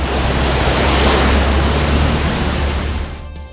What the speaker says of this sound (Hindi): बारिश इतनी हो गई कि स्कूलों में छुट्टी दे दी गई